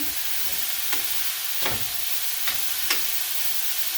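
Sliced cheesesteak meat frying in a pan gives a steady close sizzle, while a spatula stirs through it with four soft, evenly spaced scrapes.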